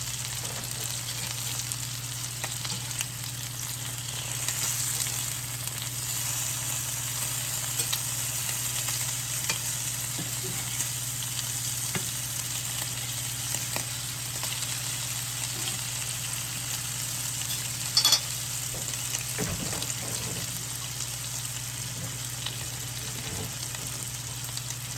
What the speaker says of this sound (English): Going to fry some bacon. I cut my bacon pieces in half so they fry up better.